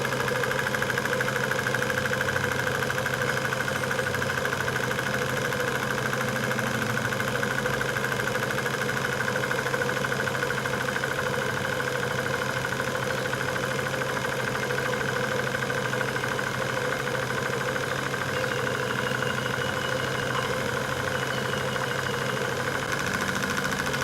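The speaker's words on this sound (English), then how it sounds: "Engine is ticking over at around 600 revs a minute" A steam engine runs steadily at about 600 revs per minute on 60 psi boiler pressure, giving a constant close mechanical hum with an even, fast ticking rhythm and no talk.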